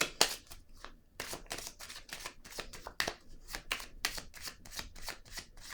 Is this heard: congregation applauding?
no